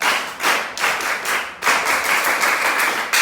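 A classroom of students claps together in a rhythmic champagne clap, a quick run of loud, dense hand claps that stops briefly and then resumes for a second burst.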